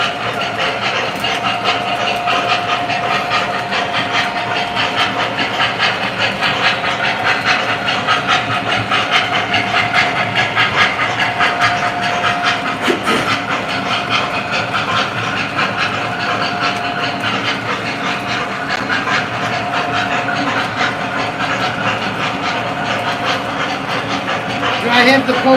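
A Lionel O gauge model train runs on a home layout, giving a continuous rolling rumble and faint rhythmic clicking of wheels over track joints that holds steady throughout.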